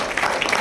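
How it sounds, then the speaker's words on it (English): Applause from an audience at a corporate leadership training session in Mumbai, a brief, dense wash of clapping at steady, moderate loudness with no clear individual claps. "So give a big round of applause for Nikhil sir."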